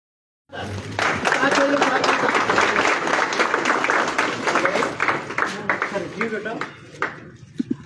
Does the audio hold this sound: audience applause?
yes